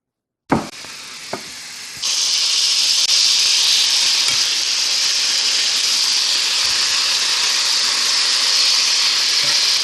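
Grass-fed meat cooks well done in a hot pan, opening with a couple of sharp knocks before a loud, steady sizzling hiss takes over and holds evenly to the end.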